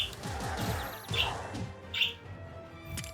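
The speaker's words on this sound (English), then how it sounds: "we have a bird that really wants to be a part of things here" A bird chirps outdoors in a few short, bright calls spaced apart, heard near and fairly clear over a low background hum.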